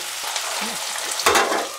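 Close, continuous sizzling of potatoes frying in oil, with a brief scrape of stirring near the end.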